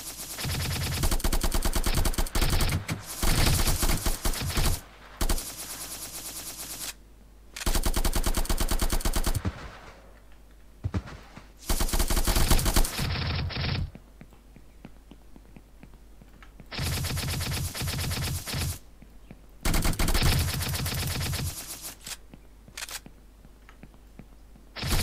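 Bursts of rapid automatic gunfire from an Unreal Engine 5 shooter game test crack out loud and close, each volley lasting a second or two and separated by short quiet gaps.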